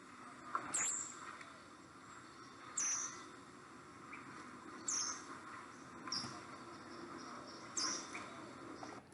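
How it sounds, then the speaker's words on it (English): A spotted or green-tailed towhee's quiet, high, thin seet call, similar to other sparrow calls, repeated about five times at steady two-second intervals, faint and distant over a soft insect-like background hiss. "it's a seat call that at first sounds very similar to other sparrow calls"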